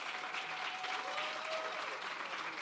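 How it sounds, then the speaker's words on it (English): Quiet, distant applause from an audience at a trade academy launch, welcoming team members; a continuous even patter of clapping, fairly faint, with a faint tonal voice-like line drifting through. "Can we hear another round of applause?"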